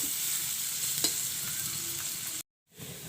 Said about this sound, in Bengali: পেঁয়াজটা ভেজে আমি বাদামি করে নেব।